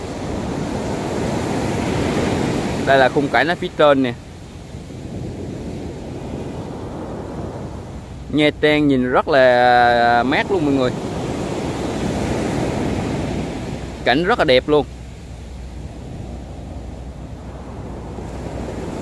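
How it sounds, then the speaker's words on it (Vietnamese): Large sea waves roar against the beach at Nha Trang, a loud continuous surf wash mixed with wind buffeting, while someone talks in brief bursts over it. "Mọi người thấy sóng biển không? Sóng rất là lớn luôn."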